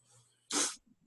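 A single short, sharp sneeze bursts out close by in an otherwise quiet room, preceded by a faint breath.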